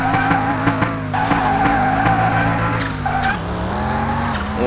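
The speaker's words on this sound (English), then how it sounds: "Roasting tires into third." A Scion FR-S fitted with racing slicks spins its tires in Car Mechanic Simulator 2021, a loud, sustained squeal over a revving engine whose pitch dips briefly during a gear shift, with no talk.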